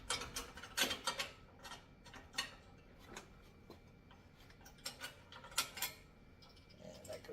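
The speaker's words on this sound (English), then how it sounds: "And tighten these down with like a wrench or a socket." Socket wrench tightening bolts on a wall-mounted pull-up bar, a quiet close series of irregular ratcheting clicks and ticks in short bursts, with no talking.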